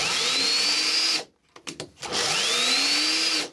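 A small cordless drill powered from a benchtop power supply whines loudly at high speed in two bursts, stopping briefly and then spinning back up, with no talking.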